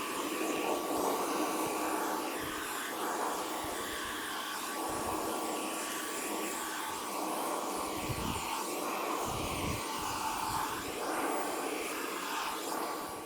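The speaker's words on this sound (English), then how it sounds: "I'm just gonna go grab the vacuum and I'm gonna vacuum this all out" A vacuum cleaner cleaning out a kiln during an element change, its steady loud motor whine and rushing airflow running continuously with small shifts in pitch as the nozzle moves.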